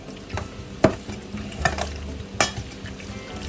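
Squid is stirred into Japanese-style braised rice in a pot, a soft low sizzle punctuated by a few sharp clanks and scrapes of a utensil against the pot, close and fairly quiet.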